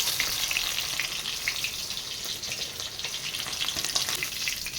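Pieces of silver carp frying in hot oil in a Bengali home kitchen, a steady close sizzle with faint crackles throughout and no voices.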